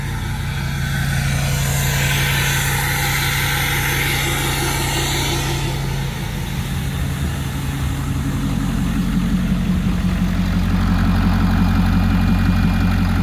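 A 2016 Ford F-350 King Ranch pickup idles steadily, its exhaust giving a continuous low rumble that grows slightly louder toward the end, with no talking.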